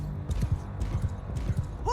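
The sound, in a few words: horse archers' hooves in video game Bannerlord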